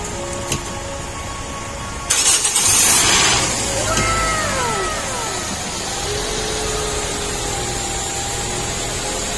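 A car with a drained battery, jump-started, cranks abruptly after a quiet stretch and catches, its engine revving briefly before settling into a steady running hum.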